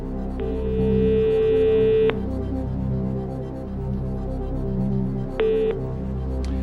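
Telephone keypad dialing tones on a French TV quiz show, Qui veut gagner des millions, sound as two steady beeps, one long and one short, over studio background hum.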